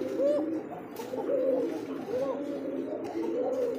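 Male Rajgolla pigeon at a Bangladeshi pigeon farm coos in a steady repeating rhythm, several low rolling coos close by with no talking over them.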